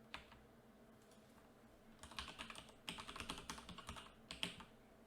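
Keys clatter on a computer keyboard as a web address is typed, a faint pause followed by bursts of quick close clicks, no voices.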